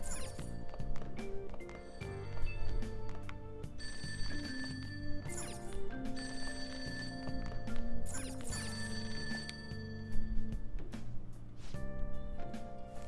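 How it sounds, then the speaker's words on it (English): A telephone rings repeatedly in bursts over layered music in the video game Persona 5, the trilling bell coming and going in a steady pattern. "That ringing sound isn't coming from my cell phone."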